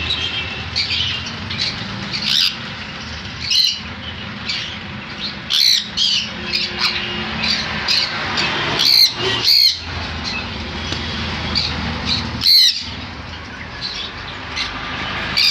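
Blue-and-yellow parrots, sold as DNA-sexed pairs at a bird shop, give repeated sharp squawks at irregular intervals over a steady background of chirping and rustling cage noise.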